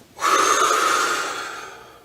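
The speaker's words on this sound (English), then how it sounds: "In through your nose, and out through your mouth." A single long, forceful exhale of breath during a beginner martial arts class breathing drill, starting abruptly and fading gradually over about two seconds, close and alone.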